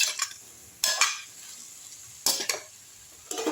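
Potato pieces and drumsticks stir-fried in a pan, four short bursts of scraping and clattering spatula strokes with quiet pauses between, close and alone.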